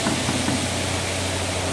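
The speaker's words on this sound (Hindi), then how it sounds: "तो आपको सुनाई दे रहा होगा कि कंप्रेसर जो है" Refrigeration compressor running in a potato cold storage machine room: a loud, steady mechanical drone with a low hum and faint rapid knocking, close and continuous, with no talk.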